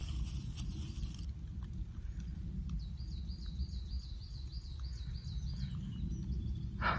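Birdsong in the countryside on a quiet walk: a faint, fast chirping trill from a small bird rises over a steady low rustle and wind rumble, with scattered soft calls and no voices.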